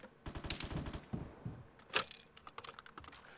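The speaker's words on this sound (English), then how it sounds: "I don't know who was shooting at me, but they needed to stop" Rapid bursts of gunfire aimed at the player in the video game Vigor, sharp clattering shots in quick uneven volleys with a louder crack near the end, fairly faint overall.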